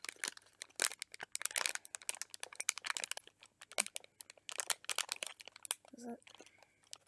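Close crinkling and tearing of a plastic Lego pack being opened in irregular bursts, with a brief voice near the end.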